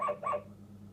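A toy yellow dog plays a recorded bark, two quick close barks in under half a second, then quiet.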